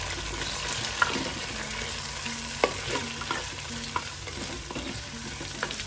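Chopped tomatoes fry with browned onions in a pan for a fish curry, giving a steady moderate sizzle with light spatula taps and scrapes at intervals and no speech.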